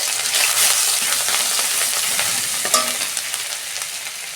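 Cumin seeds and ginger paste fry in a pan with a steady, loud sizzle and crackle, broken by occasional scrapes and clinks of a spoon against the pan. No one speaks.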